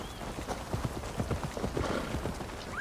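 Horse hooves clip-clop steadily at a walking pace in Assassin's Creed Valhalla, set in Ireland, a rhythmic string of close, moderately loud hoof strikes over a soft game ambience with no talking.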